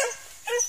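Hunting dog on a wild boar hunt by a river in Dharmasraya, giving two short, fairly close barks or yips with a brief gap between them, heard alone.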